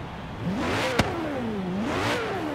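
A gold-plated car's engine in a video game revs up and down twice in smooth rising and falling sweeps, with a sharp click in between, moderately loud and without speech.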